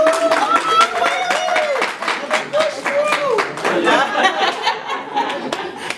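A virtual book club audience claps and chuckles together at an author event, a dense patter of hands under bright voices and laughter, with a speaking voice riding over the top throughout.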